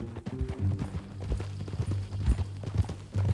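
Horse hooves clip-clopping at a walk in Red Dead Redemption 2, a near, uneven run of dull thuds continuing throughout with no talk over them.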